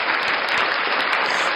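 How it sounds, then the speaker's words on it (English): A round of applause from a crowd at a late-night live show, dense and steady clapping filling the whole moment at even loudness without any voices over it. "Ronnie, the round of applause."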